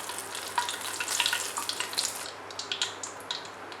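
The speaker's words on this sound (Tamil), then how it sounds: "இதுவும் அதே மாதிரி தான் நல்லா ஃப்ரை பண்ணும்" Chicken coated in Hapima crispy fry mix sizzles in hot oil, a steady bright crackle with scattered pops and spits, fairly close and continuous, fading slightly toward the end.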